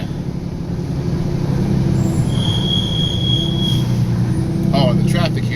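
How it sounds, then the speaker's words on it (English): Road traffic of cars and trucks hums from inside a vehicle stuck in a jam, a loud, steady low engine rumble with a thin high squeal drifting over it. "Oh, the traffic here is horrible."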